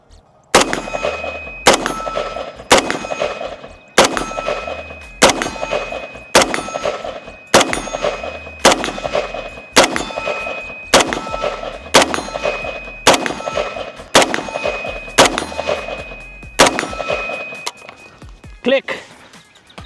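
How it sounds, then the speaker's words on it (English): New Century AP53 pistol-caliber rifle emptying a magazine at steel targets outdoors: about fourteen loud, evenly spaced single shots with bright metallic pings, then a final empty click. "I'm gonna empty this mag"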